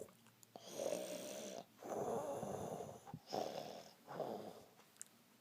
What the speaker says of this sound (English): Phantom Foxy is snoring too loudly.